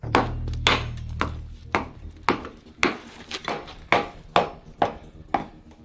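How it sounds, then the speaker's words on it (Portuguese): Repeated sharp metallic hammer strikes knocking excess steel off a rail weld, about a dozen evenly spaced blows ringing out close by, with no talking. "Depois disso, martelamos as partes excedentes."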